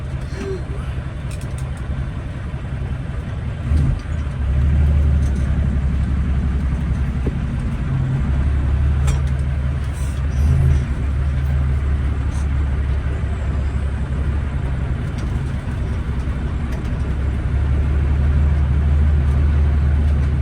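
Cab of a 600-horsepower diesel semi truck on a multi-stop LTL route as it pulls away, with a steady, loud, low engine drone and road rumble throughout and brief clunks, no talk.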